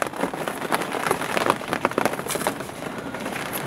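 Rain falling on a garden greenhouse, a dense irregular patter of drops tapping the roof at moderate volume, steady and continuous.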